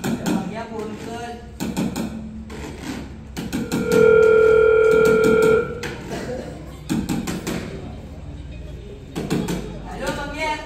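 A telephone ringback tone sounds as a call is placed during a student skit: one steady electronic tone held for about two seconds, with people talking before and after it.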